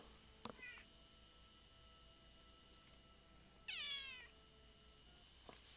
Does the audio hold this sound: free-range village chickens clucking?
no